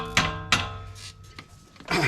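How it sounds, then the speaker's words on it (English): A hammer strikes parts out of a car strut assembly during a DIY strut replacement, with three or four sharp metallic blows about a third of a second apart, ringing briefly, close and fairly loud. "And those will hammer right out."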